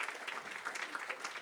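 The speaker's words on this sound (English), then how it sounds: "you can clap for her" An audience at a philanthropy summit applauds steadily, a dense wash of many hands clapping close and loud with no speech over it.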